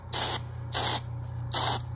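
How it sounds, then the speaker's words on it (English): Airbrush spraying sealer onto patent leather sneakers, three sharp, loud hissing bursts about half a second each, separated by short pauses over a low steady hum. "when you spray your sealer, you're supposed to see like a lot of smoke"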